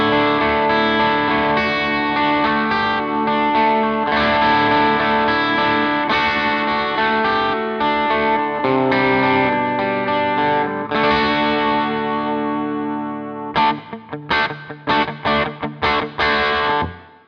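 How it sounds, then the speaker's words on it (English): An electric guitar plays through a tube power amp and a real guitar speaker, giving loud, overdriven chords with a chorus-like, effected sheen. Long ringing passages end in short, choppy, staccato stabs. "I know I'm playing through a real guitar speaker"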